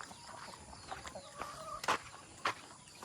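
Soft, scattered clucks from a few brooding hens nearby, with a couple of sharper louder calls over a quiet barnyard background.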